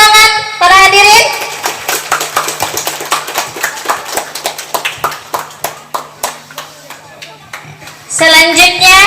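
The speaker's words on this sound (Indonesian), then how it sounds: "Boleh tepuk tangan para hadirin?" Audience applause at a Quran memorization graduation ceremony, a steady run of hand claps lasting several seconds, with a voice speaking briefly before and after.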